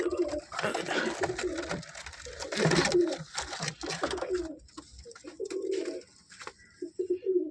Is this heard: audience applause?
no